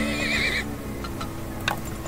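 A horse in the video game Turmoil gives a loud whinny up close, followed by a few faint ticks and clicks.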